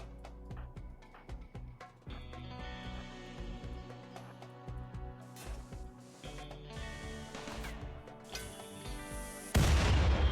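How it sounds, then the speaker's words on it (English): A steel turret in the colony-building game RimWorld fires repeatedly: sharp, punchy shots and booms scattered through the stretch over a steady musical backdrop, ending in a louder burst. "I'm going to purposefully turn on one of these steel turrets because it looks like it's going to get damaged anyway"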